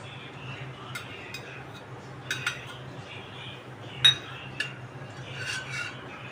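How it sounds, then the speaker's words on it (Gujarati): Spoon adding ghee into a kadai, several light metallic clinks and taps of spoon against the pan, scattered irregularly over a quiet background with one clearer clink partway through. "એમાં નાખીશું આપણે ઘી."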